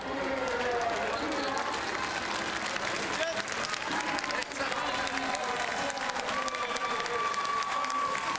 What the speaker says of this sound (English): Peter Van Petegem receiving the applause of a large crowd here in Meerbeker